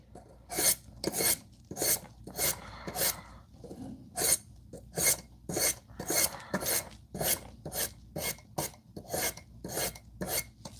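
A knife blade is drawn across a coarse sharpening stone in a regular series of about twenty short, rasping strokes, each a crisp, close grinding scrape with brief pauses between.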